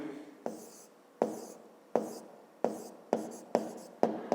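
Chalk or pen strokes writing out the solution to a fifth-grade math exercise, a series of seven sharp taps each followed by short scratching, close and clear, with no talking.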